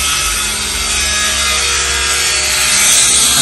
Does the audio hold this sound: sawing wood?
yes